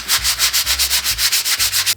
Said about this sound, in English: sanding down like the places that have patchy paint